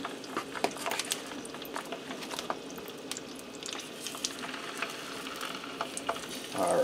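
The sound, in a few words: sausage frying in vegetable oil in electric skillet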